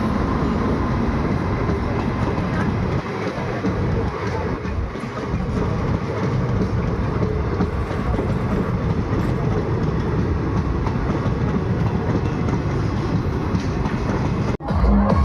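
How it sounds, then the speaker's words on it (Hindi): An Indian Railways WAG-9 electric locomotive hauls the Bayana Jaipur Express past the platform at Vanasthali Niwai station, a steady loud rumble and rolling roar of wagons held close throughout, ending with a brief knock. "सामने वैग 9 लोकोमोटिव के साथ आ रही है 19722 बयाना जयपुर एक्सप्रेस"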